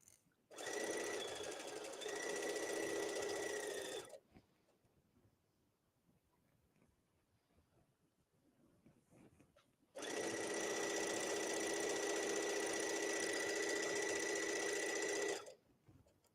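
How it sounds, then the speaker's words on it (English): A quiet Brother Luminaire sewing machine stitching a cardigan: two sustained whirring runs of rapid needle motion, about four and six seconds long, separated by a near-silent pause with faint handling. "And I'm sewing on the Brother Luminaire"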